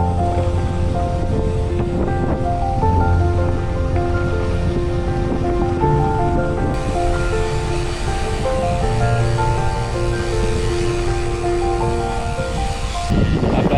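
Sea waves wash onto a beach in a continuous loud roar, heavily mixed with buffeting wind noise and a steady low tonal hum.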